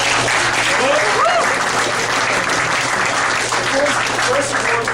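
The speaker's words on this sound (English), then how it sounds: "let's give them a round of applause" Applause from an audience for newly initiated fraternity pledges at a semester awards event, steady dense clapping filling the room throughout without a break.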